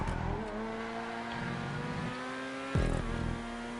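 A Pariah sports car in a GTA Online race drives at high, steady engine revs along a straight, with a brief louder rev or gear change near the end and no talk.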